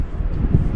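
Strong gale buffeting a campsite at Nalati, a steady low roaring rush of wind with microphone buffeting, loud and continuous throughout.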